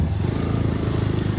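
Off-road motorcycle riding through a shallow water crossing near Guwahati, its engine chugging steadily and loudly up close, with a low rhythmic rumble and no voices.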